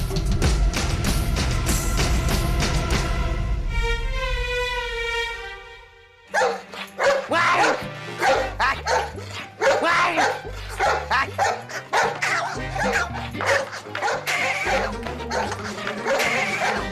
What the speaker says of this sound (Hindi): पागल कुत्ता।